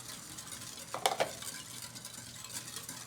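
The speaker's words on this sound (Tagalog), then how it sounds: "And you mix it all together." Cake batter with canola oil being stirred in a bowl for mamon, a soft continuous scraping and swishing with a few light clinks of utensil against the bowl.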